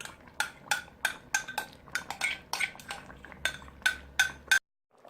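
A spoon scrapes and clinks against a pan while coconut milk is stirred into butternut squash soup, a series of repeated close metallic taps in an irregular rhythm, then a sudden stop.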